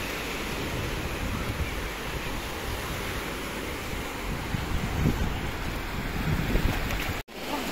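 Steady roar of sea surf and wind buffeting the microphone on a beach, continuous and loud, with no voices.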